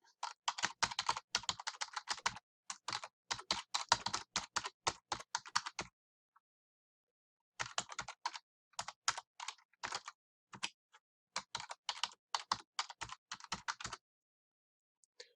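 Fast, crisp keystrokes on a computer keyboard come in steady runs while logging into an account, pausing briefly between bursts; close and clear with no talking.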